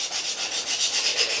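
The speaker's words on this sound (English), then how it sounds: "we can probably use a file in this case and achieve the desired results" Steady rasping strokes of a metal file drawn across a knife blade to sharpen it, a continuous, close scraping with a gentle back-and-forth pulse and no talking.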